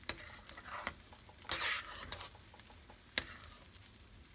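Bones stirred in a frying pan over medium-high heat give soft scraping and light clinking, with a faint sizzle beneath and a few sharper ticks of metal on the pan, quiet and close.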